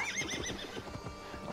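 Horse in the Assassin's Creed Valhalla video game whinnies loudly and close, a wavering neigh running through the clip with hoof clip-clop beneath it.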